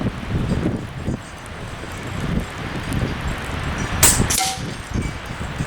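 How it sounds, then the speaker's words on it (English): Gusty wind blowing outdoors at an open shooting range, rumbling and buffeting the microphone in uneven surges, with a couple of brief sharp clicks near the end. "I'll wait till the wind stops blowing"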